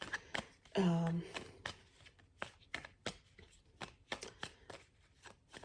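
A deck of tarot cards is shuffled close by in a run of rapid, crisp riffling clicks and slaps, with a brief voice sound early on.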